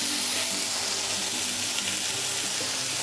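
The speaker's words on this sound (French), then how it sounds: "on va colorer nos petits palets donc, dans l'huile de colza également" Pork medallions from Gascon pork browning in hot rapeseed oil, a loud continuous sizzle and crackle with faint scrapes, no talking.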